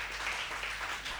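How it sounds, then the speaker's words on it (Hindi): An audience at a Hindi poetry recital breaks into brief, dense applause, a continuous wash of many hands clapping at once with no voices over it. "तालियां होनी चाहिए।"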